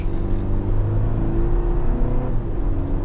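A 2025 Toyota Tacoma SR XtraCab with a 2.4-liter turbo engine and 8-speed automatic accelerates steadily, a loud continuous engine drone with road and wind noise throughout.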